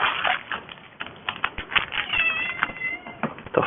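A cat meows repeatedly and insistently up close, drawn-out plaintive cries over faint clicking of a computer keyboard in a room.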